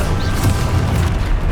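Confringo blasting spell explosion in Hogwarts Legacy, a deep booming burst that rumbles through the whole moment, loud and close.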